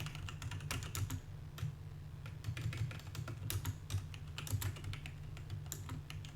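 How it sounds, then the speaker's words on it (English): Rapid, irregular clacking of computer keyboard keys during a Heroes of the Storm league match, close and fairly steady for the whole stretch over a low constant hum, with no talking. "sorry about the typing"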